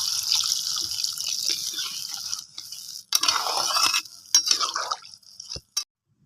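Water poured into a pan of rui fish and green banana cumin curry, a continuous splashing stream that breaks into uneven bursts and trickles before cutting off, close and fairly loud with no talking.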